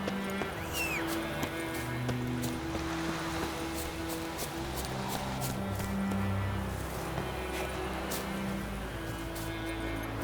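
Horse riding in the video game The Witcher 3, with steady clip-clop hoofbeats and a faint whinny under a continuous outdoor ambience of wind and rushing water, moderately loud throughout.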